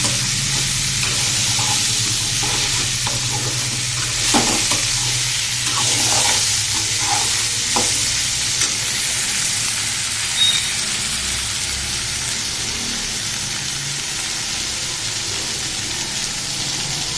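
Onion and tomato sauté in a pan for fenugreek curry, a steady close sizzle of frying with occasional scraping stirs throughout.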